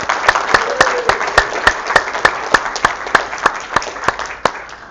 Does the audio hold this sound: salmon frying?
no